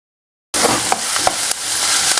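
Onions sauté in a hot pan for a spinach keerai thokku, with a loud, close sizzle that starts suddenly after a brief silence, broken by a few sharp stirring scrapes.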